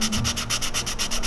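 Close, steady rubbing of sandpaper on a wooden swimbait body, working inside the joints to smooth away bandsaw marks, in quick rhythmic back-and-forth strokes with no talking.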